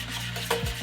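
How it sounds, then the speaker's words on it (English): Seasoning for deep fried salmon being stirred and mixed in a bowl, a soft scraping swirl over a steady low kitchen hum, with no talking. "We'll take and mix it up until it's pink."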